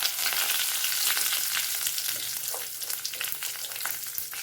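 Mustard seeds, urad dal, cumin and curry leaves frying in hot oil for Tirunelveli sodhi kuzhambu, a steady close crackling sizzle with scattered sharp pops throughout, no voices.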